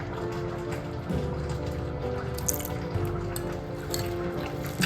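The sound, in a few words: dash of vinegar poured onto prawns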